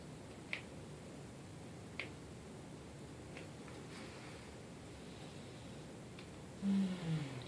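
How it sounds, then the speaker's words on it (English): Finger snaps during a hand massage: a few sharp, isolated clicks spaced irregularly over a steady background hiss, fairly faint and close, with no talking. "Finger snaps."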